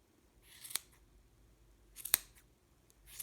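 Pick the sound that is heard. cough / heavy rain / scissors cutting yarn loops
scissors cutting yarn loops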